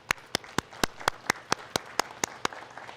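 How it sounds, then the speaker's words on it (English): Graduation audience at a high school ceremony clapping together in a slow, steady, evenly spaced rhythm, about a dozen distinct claps in a few seconds, fairly near and clear with no talk over it. "Let's all have a quick round of applause for the parents and guardians in the crowd."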